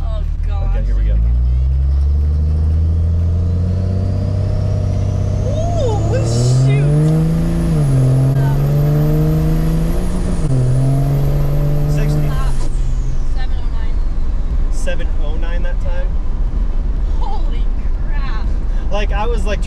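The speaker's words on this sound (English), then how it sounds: "when I was starting to let off, it just started like spinning the tires" A third-generation Cummins diesel truck launches hard on pavement, its engine climbing to a loud revving roar while the tires spin with a high, sustained screech, then both fade back to road noise and some nearby chatter.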